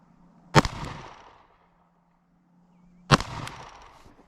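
Two sharp, loud handgun shots at an outdoor shooting range, about two and a half seconds apart, each ringing out with a short echoing tail before quiet.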